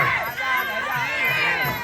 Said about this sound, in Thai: เสียงเชียร์ยังดังครับเพชรนาดีเสียงเชียร์ยังดัง